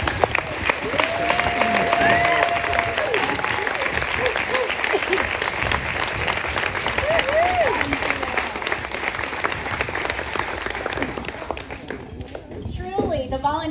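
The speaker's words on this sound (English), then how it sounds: "let us give you a warm round of applause" An audience gives a warm, sustained round of applause to volunteers of the Pensacola Dream Center at a gathering. The clapping is dense and continuous, with voices and cheers mixed in, and it tapers off near the end.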